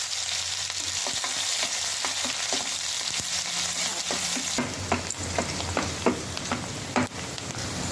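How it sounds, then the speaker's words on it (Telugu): Onion pieces frying in hot oil in a kadai with cinnamon, cumin and cloves for a beerakaya chicken curry: a steady, close sizzle with scattered light stirring clicks that grow busier midway, and no talk. "కళాయిలో నూనె వేడయ్యాక చెక్క, జీరా, లవంగా వేయాలి. తర్వాత ఉల్లిగడ్డ ముక్కలు వేసి కొద్దిగా వేగనివ్వాలి."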